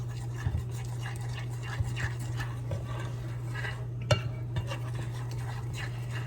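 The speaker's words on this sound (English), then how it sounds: "I'm going to get this mixed before I add my egg" Cornbread batter being stirred in a bowl before the egg goes in, giving soft irregular scraping and tapping of the spoon against the bowl over a steady low kitchen hum, with a few sharper clinks.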